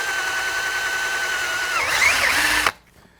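Power drill boring holes in a push pole, a steady whining motor that strains and wavers as the bit bites, then stops abruptly, close and alone.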